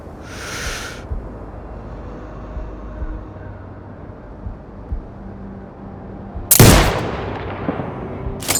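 One loud sniper-rifle shot in Sniper Ghost Warrior Contracts 2, a sharp crack with a decaying tail that stands out from a low, quiet background hum.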